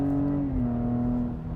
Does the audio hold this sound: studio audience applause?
no